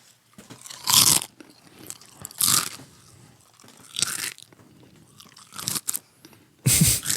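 Loud crunching bites, as of someone chewing sun-baked dirt, come in about five distinct bursts spaced a second or so apart, close up with quieter gaps between.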